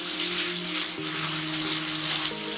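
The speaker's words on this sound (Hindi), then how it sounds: "हल्का सा पानी डाल के मसाले को भूनेंगे," Masala of coriander powder and garlic frying in a pan after a splash of water, giving a steady, close hiss and sizzle throughout, with no talking.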